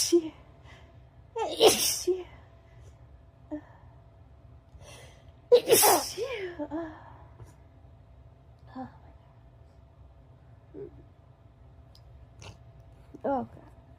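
Two sharp, loud human sneezes from a congested person, spaced several seconds apart, with gasps, sniffles and faint breathy sounds in between.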